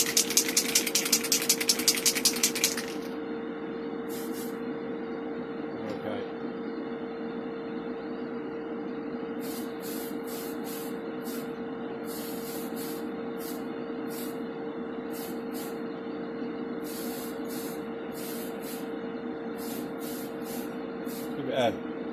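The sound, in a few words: spray can applying primer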